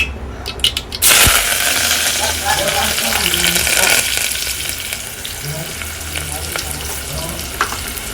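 Onion and curry leaves fry in a pot for a goat mutton dish, a loud steady sizzle starting with a sharp burst of spatter and continuing close by with occasional stirring clinks, no talk.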